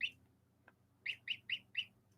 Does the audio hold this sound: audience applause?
no